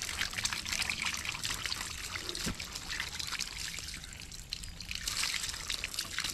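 Water trickles and splashes steadily nearby, a continuous pouring stream with small bubbling variations and no talking.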